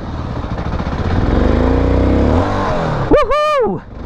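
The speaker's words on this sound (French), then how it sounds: "on va aller faire patiner ce pneu arrière" A MASH X-Ride 650 trail motorcycle with a 21-inch front wheel revs hard on a dirt trail track near Lyon while spinning its rear tyre: a loud, close, rough engine roar that rises, then a sharp whining surge before it cuts off.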